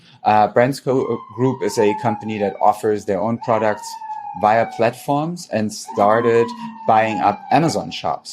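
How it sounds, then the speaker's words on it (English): An emergency siren wails on a New York street outside, a faint gliding tone drifting up and down beneath a man's continuous, close speech. "there's a siren outside. So it's the usual New York siren"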